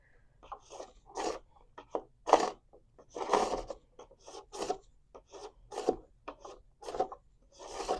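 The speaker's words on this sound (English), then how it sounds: "You're just going to take your scraper down from one end to the other." A plastic scraper rasps wax off a snowboard base in repeated strokes, each a dry scraping burst with short pauses between, close and fairly loud.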